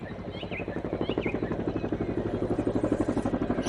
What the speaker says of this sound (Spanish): Suenan los helicópteros,